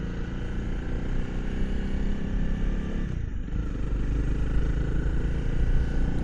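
A 2025 Honda CRF300L Rally with a single-cylinder 300cc engine rides along, its engine droning steadily over road and wind noise, loud and close throughout with no voices.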